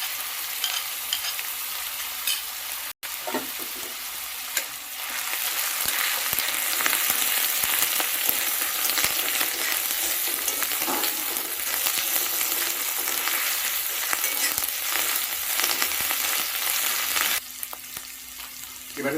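Garlic paste fries in a pan for a koi fish curry, a loud, steady crackling sizzle that swells after a brief pause near the start and runs on without speech.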